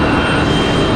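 United 737-700 airliner arriving at Raleigh-Durham on a flight from Chicago O'Hare, a steady loud broadband engine roar filling the whole second without a break.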